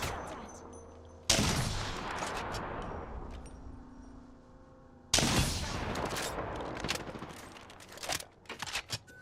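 Bursts of gunfire in a duo battle-royale shooter, two loud volleys breaking out a few seconds apart with scattered shots trailing off, heard alone without talk.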